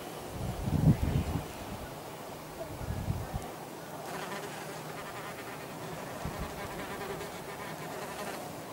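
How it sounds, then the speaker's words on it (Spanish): Yellowjacket wasps crawl on the palm of a hand, three at once, giving a close, faint, continuous buzz, strongest and busiest in the first few seconds before thinning to a steady low hum. "Conseguí mantener a tres avispas en la palma de mi mano"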